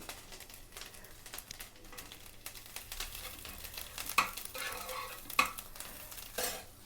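Curry leaves fry in hot oil in a pan while being stirred, giving a steady soft sizzle with scraping stirs and two sharp clinks near the end, close and alone.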